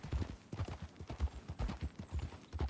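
Horse hooves clip-clop at a steady walking rhythm in Red Dead Redemption II, each hoof strike soft and close, with a quiet outdoor background and no talking.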